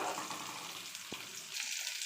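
Ginger and onion fry in oil in a pan, a soft, even sizzle with one brief stirring knock, fairly quiet and with no voices.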